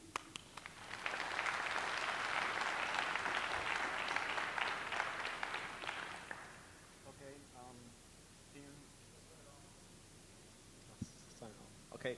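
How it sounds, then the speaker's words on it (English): Audience at a hacker conference talk giving a steady wash of applause for two speakers for about six seconds, then it stops and faint voices and handling noises follow in a quieter room. "please give a warm round of applause to our two speakers, James and Bertin."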